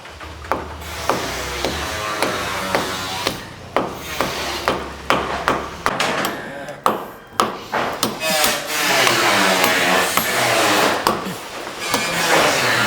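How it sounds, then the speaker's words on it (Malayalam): A hammer strikes repeatedly to loosen a stone at the start of work on a new home, with sharp, close, fairly regular blows about every half second. "ആദ്യമായിട്ട് ആ കല്ല് ഇളക്കുന്നതിൻ്റെ അടി ഞാനാണ് അടിക്കാൻ പോണത്"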